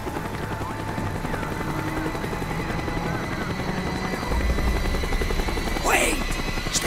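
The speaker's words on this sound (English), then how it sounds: "The chopper is coming around again." A military helicopter in Call of Duty: Black Ops drones continuously with a low rotor thrum that swells louder partway through, joined near the end by a short sharp burst.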